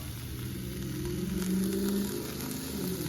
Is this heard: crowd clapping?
no